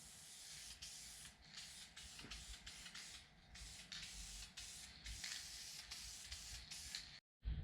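Aerosol fabric dye hisses steadily from a spray can onto the cloth seats of a Foxbody Mustang interior, a close, continuous spray broken by short pauses as the nozzle is released, with no talking.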